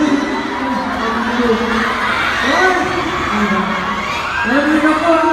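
A large fan crowd at an indoor birthday fans day event in the Skydome cheers and shouts, with high children's voices whooping in repeated rising yells, loud and close throughout.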